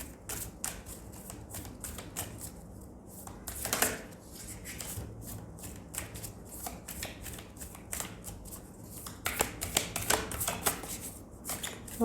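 Tarot cards being shuffled over and over, a quick papery riffling with sharp flicks and taps, fairly close, alone without any voices.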